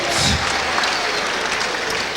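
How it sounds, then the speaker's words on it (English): A boxing crowd applauds loudly and steadily after a Victorian Super Middleweight Championship bout, a dense wash of clapping with no clear break. "have a big round of applause there for Dean Gaither and Sergio Llancafilo"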